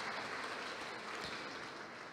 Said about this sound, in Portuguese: o querido Fabrício Lopes, a ele uma salva de palmas.